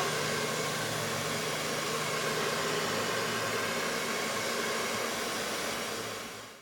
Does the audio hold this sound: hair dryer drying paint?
yes